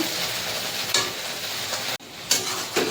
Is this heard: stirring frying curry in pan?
yes